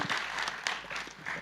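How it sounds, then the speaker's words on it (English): Audience applause at an economic dialogue panel session, a steady wash of many hands clapping together for under two seconds at moderate level. "Please give them a huge round of applause"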